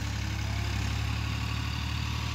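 A New Holland tractor engine running in a field being prepared, a steady low diesel drone with an even throb, fairly distant and unchanging.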